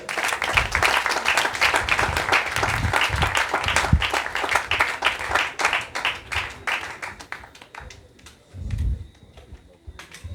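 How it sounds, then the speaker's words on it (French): Audience applause at a history conference in Le Carbet, Martinique: steady crowd clapping for several seconds that thins into scattered claps and dies away, with faint low murmuring near the end. "Sous vos applaudissements, s'il vous plaît."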